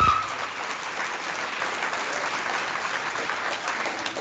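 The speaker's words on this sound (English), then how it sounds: "Let's give them another big round of applause." Steady, sustained applause from an audience at a 2024 fifth grade ceremony, a broad even wash of many hands clapping at moderate distance with no speech over it.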